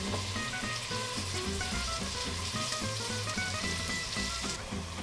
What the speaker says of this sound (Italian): Dopodiché possiamo aggiungere anche la pancetta. La facciamo rosolare finché non diventi dorata.